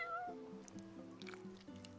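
A cat in Final Fantasy XV gives a string of short tonal meows, several quick calls in a row, close and clear over quiet game ambience.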